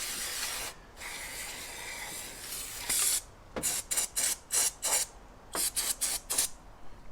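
Brake cleaner is sprayed from an aerosol can onto a Ford Ranger's oil filter housing: a long hiss, then a rapid series of short, sharp spray bursts, close and alone.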